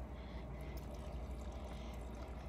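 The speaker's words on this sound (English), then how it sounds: "pouring the Coke out" Coke poured out onto dirt, a steady soft liquid stream splashing and trickling into the ground, continuous and fairly faint, with no voices.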